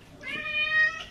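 A pet cat gives a single short meow close by, clear and alone in a quiet room.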